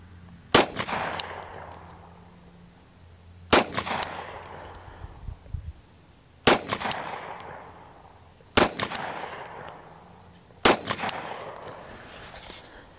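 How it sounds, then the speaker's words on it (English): Five loud, sharp pistol shots from a Glock 41 are fired at a paper target on a range, spaced about two to three seconds apart, each one cracking and then ringing out briefly. "Let's put a couple on that paper"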